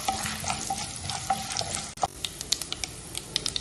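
Dried red chillies, curry leaves and urad dal fry in oil in a pan for coconut rice, giving a steady close sizzle with light crackles and a few stirring scrapes throughout.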